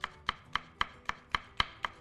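Peppers are diced small with a knife on a cutting board, eight sharp knocks in a steady rhythm, close and clear with no talking.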